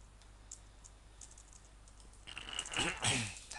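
Someone types a short menu name on a computer keyboard. Faint scattered keystrokes give way to a closer, denser burst of key clicks at the end.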